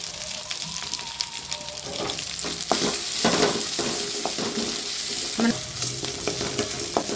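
Onions and dried red chillies sautéing in a pan for a black urad dal chutney, loud steady sizzling broken by repeated spoon stirs and scrapes against the pan.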